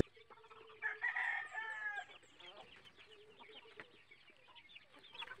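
Heritage chickens at a provincial backyard flock: a rooster crows once, loud and close, then soft clucking and scattered bird calls continue quietly underneath.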